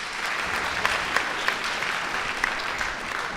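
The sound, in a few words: audience applause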